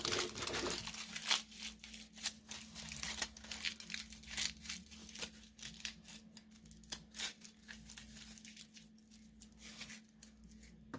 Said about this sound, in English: we're going to make 2 pieces of kind of rolled up, smushed up aluminum foil